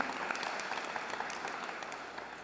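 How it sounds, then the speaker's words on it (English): Audience at a public meeting about the Edmonds Landmark 99 property applauds a table group, a quiet, steady patter of many hands continuing without pause, fairly distant and soft throughout. "round of applause for Table 1"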